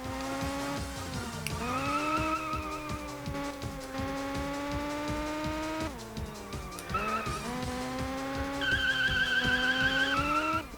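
Car drifting in the GT Pro Series racing game on the Nintendo Wii, with a steady engine drone whose pitch rises and falls. Sustained tire squeal runs over it through the whole stretch, loud and continuous, with no talk.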